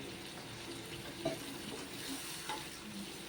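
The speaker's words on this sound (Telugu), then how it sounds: "కొంచెం వాటర్ పోసుకుందామండి" Water poured into a chicken gongura curry makes it sizzle and bubble in the pan, a faint steady hiss with a couple of small clinks and no talking.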